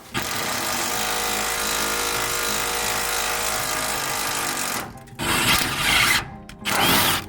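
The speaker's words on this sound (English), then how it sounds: "And I'm chasing it with an impact, and it's perfect." An impact wrench drives a bolt to chase a thread during a pickup truck rebuild, giving a loud, steady, close-up mechanical rattle that runs for about five seconds, then a few shorter bursts.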